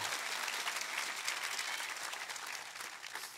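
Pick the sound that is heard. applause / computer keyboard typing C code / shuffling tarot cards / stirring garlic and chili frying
applause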